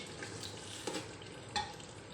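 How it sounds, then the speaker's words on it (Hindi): A spoon stirs beef curry simmering with onions, oil and a little water in a pot, giving a soft, steady sizzle broken by two light scraping knocks, faint and without speech. "चम्मच चलाता रहा"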